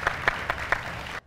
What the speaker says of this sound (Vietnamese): Dạ, vỗ tay ạ.